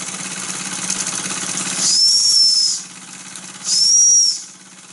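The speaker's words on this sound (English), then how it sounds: "Weeden whistle works a lot better in both respects." A Weeden toy steam engine's whistle gives two shrill, steady blasts, each under a second, rising above the continuous hiss and soft rhythmic chuffing of the running engine.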